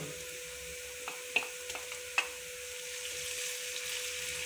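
Light-brown onions fry in oil as garlic-ginger paste goes into the pan, a steady, fairly quiet sizzle with a couple of sharp stirring clicks and no talking.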